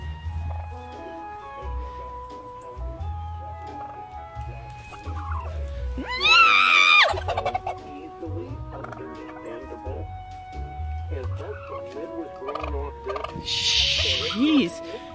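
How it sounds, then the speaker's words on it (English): A turkey gobbles loudly in a couple of bursts, close by, over a steady low mail truck engine rumble. "this turkey will not let me get back in my mail truck."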